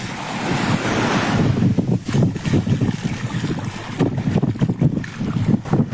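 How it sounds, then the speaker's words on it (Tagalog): Strong wind roars across the open sea during net fishing, buffeting the microphone with broadband gusts over surf and lapping waves, loud and continuous with no voices. "Malakas ang hangin."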